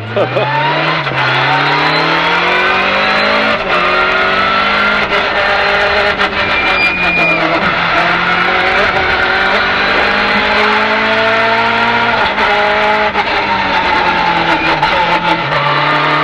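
Peugeot 205 rally car driving hard, engine revving up and down through gear changes with rising and falling pitch, loud and close throughout, braking moments between pulls, with occasional voices under the engine.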